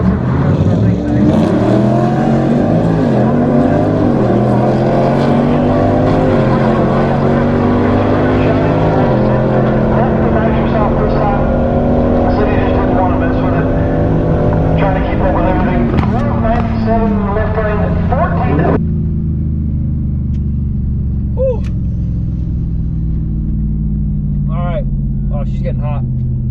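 Trucks racing in a heads-up drag racing shootout, engines roaring loud and sustained with rising and shifting pitch, then cutting to a lower idle rumble near the end while a voice talks.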